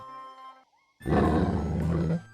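A lion's deep, loud roar in a Ukrainian folk audio fairy tale bursts in after a brief silence and rumbles on for about a second, following a faint musical tone.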